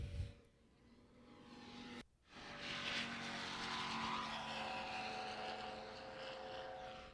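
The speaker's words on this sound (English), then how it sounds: "Evolution Aircraft, Larry Mednick taking off now." Evolution Aircraft LP-16 taking off at Sun n Fun, a steady propeller-engine drone swelling after a brief pause, fairly faint and distant, heard alone.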